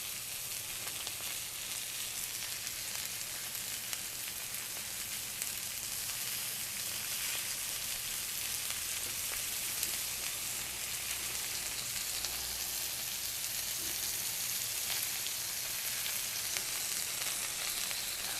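A ribeye tomahawk steak sizzles with butter and fresh thyme on a Blackstone griddle. The frying hiss is dense and continuous, steady and close for the whole stretch, with no voices.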